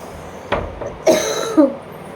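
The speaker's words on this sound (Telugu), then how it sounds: "ఇది తినగానే దగ్గు అనేది వస్తుంది, చూసారా?" A boy coughs three times in quick, harsh bursts after eating Kit Kat chocolate, each cough close and loud against a quiet room.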